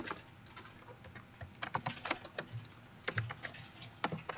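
Close computer keyboard typing while HTML headings are written, uneven clusters of clicky keystrokes with a few louder thumps, over faint background noise.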